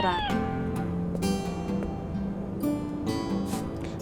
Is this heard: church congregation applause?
no